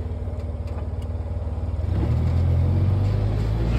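Off-road buggy engine pulsing with a rhythmic low throb as it drives rural property trails, then opening up into a louder steady rumble, close and continuous with no voices.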